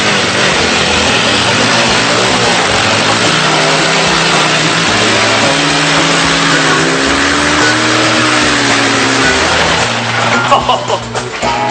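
Honda Cub motorcycle engine clicked into gear and pulling away, a loud buzzing single-cylinder drone with stepped pitch changes as it moves off, voices chattering over it.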